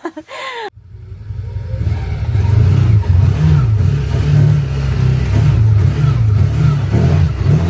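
CFMOTO UForce 1000XL side-by-side engine accelerating, rising from a brief quiet start into a loud, steady mid-pitched drone with wavering revs, close by and without talk.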